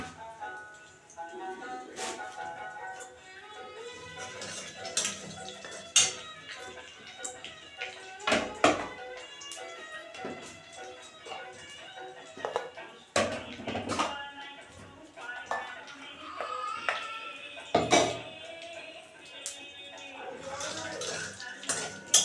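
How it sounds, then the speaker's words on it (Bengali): Cumin and black cumin tempering frying in leftover fish-frying oil, with light sizzling under frequent clanks and scrapes of a utensil against the pan, while a person talks throughout. "মাছ ভাজার ভিতরে আমি জিরে ফোড়ন দিয়ে দিলাম।"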